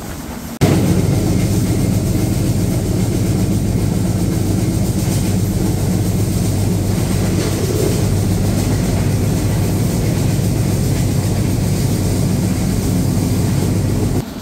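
The Padma Express intercity train in Bangladesh runs with a loud, steady, continuous rumble heard from on board, an unbroken roar of wheels and carriage noise with no talk.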